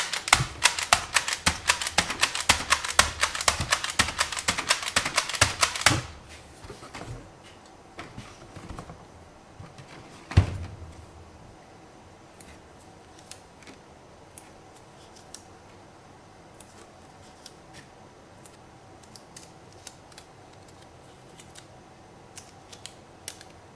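Packing tape pulled and stretched across a case of bottled barrel-aged maple syrup: a dense, loud rasping tear for about six seconds, then one sharp thump and scattered faint ticks and rustles in a quiet room.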